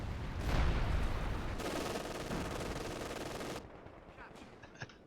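Machine gun fire in the video game Company of Heroes 2, a loud sustained rattle of rapid bursts that cuts off abruptly, followed by quieter scattered battlefield noise.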